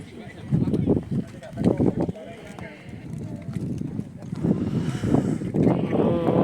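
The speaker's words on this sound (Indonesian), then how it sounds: "anginnya udah mulai kencang" Strong gusty wind buffets the microphone on a crowded mountain hiking trail at Puthuk Gragal, 1480 m, with a low rumbling roar that rises and falls and voices talking over it.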